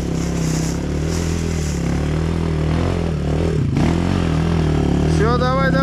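Enduro motorcycle engine idling and revving steadily on an off-road trail, a constant throaty drone throughout with a rising rev near the end, while people talk nearby.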